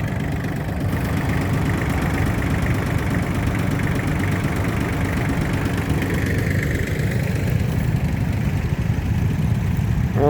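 A Kubota tractor engine runs steadily at a plough day, a continuous low, rumbling idle held at an even level throughout with no talk.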